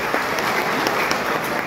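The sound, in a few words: audience applause honoring the dignitaries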